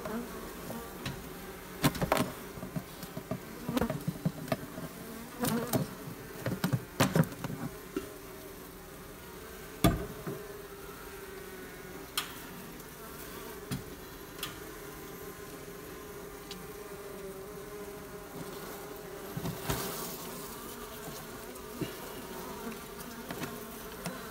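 Honey bees buzzing in a hive kept in a basement, a steady close drone of many insects with scattered clicks and knocks from handling the hive, no voices.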